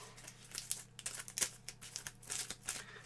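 A deck of Star Wars Clone Wars board game cards being quickly shuffled, a faint soft riffling and crinkling rustle in short bursts, close and alone.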